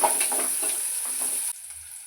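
Carrots tossed into a hot pan and stirred while frying at home, a steady close sizzle with scraping stir strokes for about a second and a half before the sizzle drops sharply and quiets.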